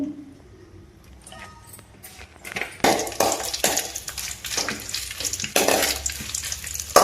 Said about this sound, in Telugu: మనం మిరపకాయలు వేయించుకుందామండి కొంచెం ఆయిల్ పోసుకుని